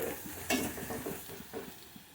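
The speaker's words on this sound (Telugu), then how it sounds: "ఆనియన్స్ వేగిపోయాయి ఇప్పుడు" Onions frying in a pan for a spinach and tomato curry, a quiet sizzle with a few stirring scrapes and light utensil clinks, faint and close.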